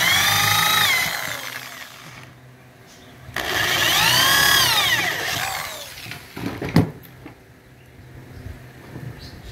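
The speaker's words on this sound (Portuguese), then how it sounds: "deixa eu dar uma lixadinha para dar acabamento" An electric power sander finishing a wooden six-sided half-moon cachepot, heard up close in two whining bursts, the second stronger and longer, followed by a few clacks and quieter handling.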